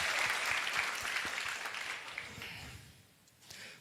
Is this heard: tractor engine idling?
no